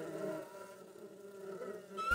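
A bee buzzes in a close, steady droning hum for about two seconds, the tone wavering slightly in pitch and loudness, heard alone.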